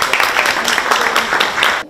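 Brief, loud burst of applause at a birthday gathering, a room of people clapping steadily before it cuts off abruptly.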